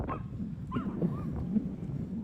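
Rambunctious dogs at a Manhattan dog run yip and whimper in short, scattered bursts at a moderate distance, over a steady outdoor city background.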